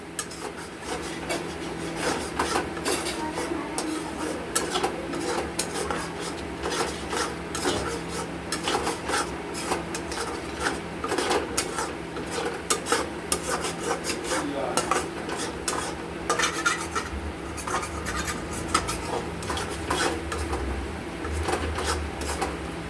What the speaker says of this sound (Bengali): আমরা জল দিয়ে একটু কষে নিলাম।